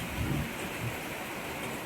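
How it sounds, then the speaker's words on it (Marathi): Steady hiss of the season's first heavy rain, with a low rumble of thunder early on, filling the air without any voices. "दोन हजार पंचवीसचा पहिला पाऊस आहे"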